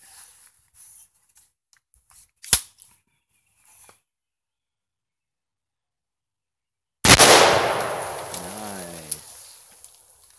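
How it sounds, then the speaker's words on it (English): An AR-15 rifle fires its first shot outdoors: one loud, sharp gunshot bursts in abruptly and decays into a ringing echo, preceded by faint handling sounds and a small click. "First shot."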